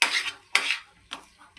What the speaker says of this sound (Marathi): आता मी याला चांगल्या प्रकारे हलवून घेते।